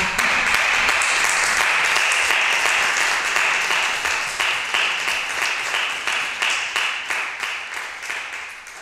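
An audience applauds in a full, bright burst of clapping that gradually thins and settles into distinct rhythmic claps before tapering off.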